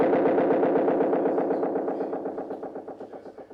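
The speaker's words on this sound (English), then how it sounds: "once we press stop, what's actually going to happen is the delays will increase in volume, and we'll start getting that distortion." Repeating delay feedback from a music production setup, the echoes pulsing in a fast steady rhythm that thickens into a distorted, buzzing wash before gradually thinning and tapering off.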